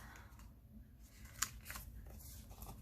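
Scissors trimming paper ephemera for a scrapbook cover, a few quiet close snips and paper rustles with one sharper cut, no voices.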